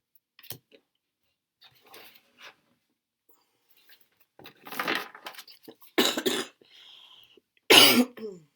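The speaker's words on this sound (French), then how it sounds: "il faut que je soigne ma toux" A woman coughs several times, with isolated short bursts early on and then stronger, harsher coughs near the end, each separated by quiet gaps and small clicks.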